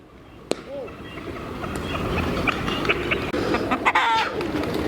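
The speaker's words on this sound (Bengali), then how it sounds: "প্রচুর হাঁস, মুরগি এবং কবুতর এখানে পালন করা হয়।" Chickens cluck steadily at a resort farm that also keeps ducks and pigeons, with loud, close birds over constant outdoor background noise.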